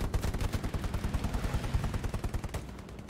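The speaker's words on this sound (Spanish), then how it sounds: "Esos disparos a través de los arbustos a Serpole no le molestan" Rapid automatic gunfire rattles in a fast, even burst of many shots, loud and close, fired through bushes during a competitive video game match.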